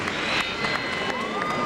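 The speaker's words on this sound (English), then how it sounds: "how about a round of applause for this great effort by this challenger" A boxing crowd cheers and claps in a dense, steady wash of noise for a couple of seconds, with scattered whistles over it.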